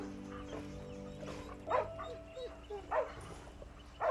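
Dogs bark and whimper, with several short yips and whines spaced a second or so apart over a low, steady background hum.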